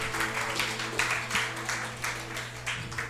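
A church congregation applauding during a Filipino worship service, steady rhythmic clapping at moderate distance with a low hum underneath, continuous throughout.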